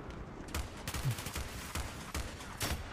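Distant gunfire in the video game Battlefield 3 during a Karkand Rush match, with repeated shots and bursts of fire cracking over a constant background din.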